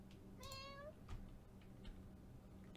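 A cat gives one clear rising meow, faint and fairly close over a soft steady background hum, followed by a few quiet clicks.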